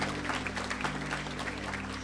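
Continuous applause from a church congregation during a worship service, a dense even patter of many hands over a low sustained musical drone.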